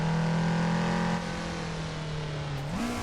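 A Toyota AE86 engine in a racing video game holds a steady, loud, buzzing drone, drops in pitch as the car shifts or lifts, then climbs again near the end, with no talk.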